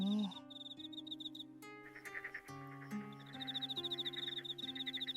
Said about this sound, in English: The night is filled with a loud chorus of croaking frogs